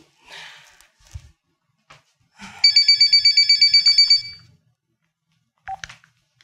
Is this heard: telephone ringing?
yes